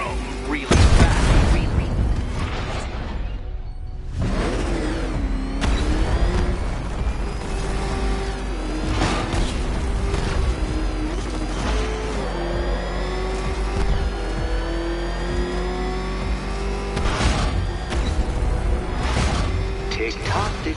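Batmobile engine in a Batman video game roars and revs hard, with whooshing passes and heavy booms over a steady loud drone, while voices talk over it.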